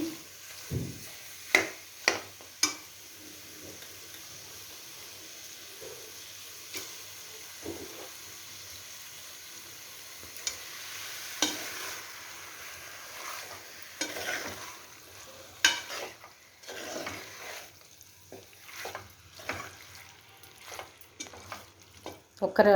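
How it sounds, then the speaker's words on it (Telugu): Onions frying on high heat for a ginger chicken curry: a soft, continuous sizzle in the pan, broken by sharp scraping clicks as a spoon stirs and knocks against the pan, the stirring picking up in the second half. "అందుకని నేను కొంచెం బాగా వేపుతాను."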